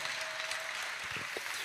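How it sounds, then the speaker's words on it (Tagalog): A church congregation applauding, thick continuous clapping from many hands, fairly distant and even in level for the whole short stretch. "pumalakpak na malakas para sa Diyos"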